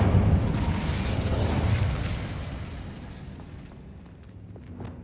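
A fiery burst from the Incendio spell in the Hogwarts Legacy video game, with a loud whooshing flare up front that fades into a crackling rumble and soft clicks over about five seconds, with no voices.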